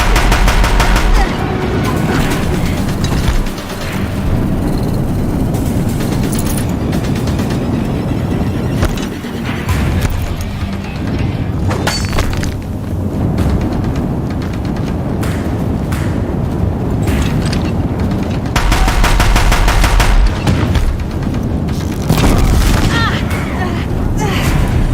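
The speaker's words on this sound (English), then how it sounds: "If the Deathbringers keep firing, this bridge will go." Deathbringer machines fire heavy guns during a battle in the video game Horizon Zero Dawn, giving loud, sustained volleys of booms and rapid gunfire over a dense battle din, with voices talking at times.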